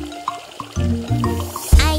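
Water runs from a faucet to fill a bath in an animated children's song, with soft liquid drips and trickles that swell into a louder splash near the end.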